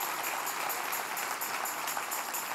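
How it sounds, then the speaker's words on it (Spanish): A church congregation applauds during a Sunday service, a short burst of continuous clapping heard at moderate distance and fairly faint, with no speech over it. "Denle otro aplauso al Rey bendito."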